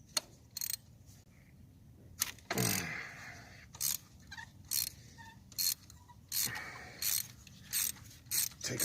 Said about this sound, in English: It's my spark plug wrench.